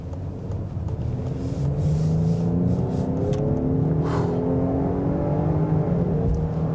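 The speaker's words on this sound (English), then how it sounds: "we're gonna gun it out onto the highway here and see what we got" A 2024 Lincoln Aviator Black Label accelerates hard onto a highway, its engine rising in a loud, sustained climbing drone with road rumble and whir, heard close from inside the cabin with no talk.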